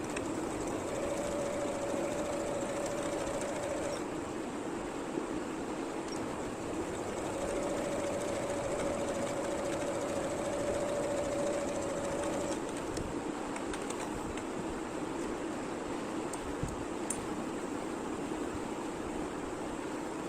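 Sewing machine running continuously while stitching the side seams of a baby summer top, a steady rapid mechanical whir with fine ticking, close and alone for about twenty seconds.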